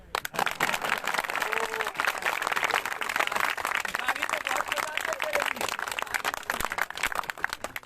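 Audience clapping at a Hindi-language public event with a yoga guru and a Goa chief minister, steady dense applause running throughout, with voices faintly mixed in.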